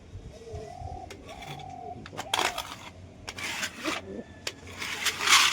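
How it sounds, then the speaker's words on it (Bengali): Restless pigeons cooing and fluttering nearby, soft repeated coos with scattered bursts of wing and movement noise, while a person talks over them. "এত ছটফটে পায়রা।"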